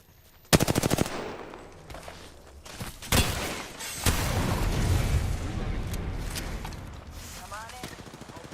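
Gunfire in Apex Legends: a loud rapid burst of automatic fire opens the scene, then single heavy shots and impacts follow amid ongoing battle noise, with a voice talking over parts of it.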